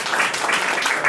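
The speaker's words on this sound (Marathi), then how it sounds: "या दोघांसाठी खरंच टाळ्या" A live audience at a Marathi talent show applauds briefly, a dense close patter of many hands, with voices mixed in.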